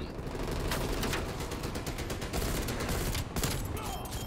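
Dense, continuous gunfire from the Cold War video game fills the clip, a rapid automatic burst with sharp cracks layered over a constant loud roar, close and unbroken throughout.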